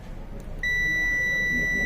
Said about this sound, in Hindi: यहाँ पे कंटिन्यू बीप आ रहा है और वैल्यू 0 है